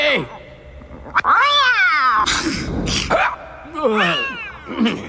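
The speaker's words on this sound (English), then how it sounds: "Cat." A cat in the animated adaptation of Terry Pratchett's Wyrd Sisters, set in a castle, gives several drawn-out, rising and falling meows close by, one after another, with brief pauses between them.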